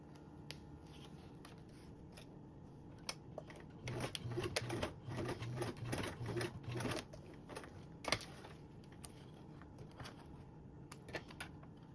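A sewing machine basts a fabric strap connector piece into place, heard as quiet, close bursts of rapid stitching with intermittent clicks and handling noise in between.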